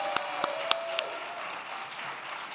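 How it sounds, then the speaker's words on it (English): An award ceremony audience applauds in a dense, sustained round of clapping, with a few sharp near claps standing out early and a faint tone under the start. "Can we give her another round of applause?"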